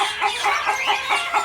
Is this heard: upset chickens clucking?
yes